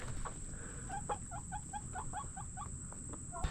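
Chickens in a backyard coop, a series of quick, close clucks and short calls in rapid succession over a steady background hum.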